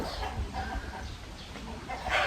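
Chickens cluck softly in the background, with faint chirps over a steady outdoor hiss.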